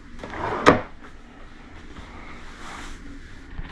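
A desk drawer in a cruise ship cabin slides and shuts with one sharp, close knock, then the room settles into quiet ambient hum.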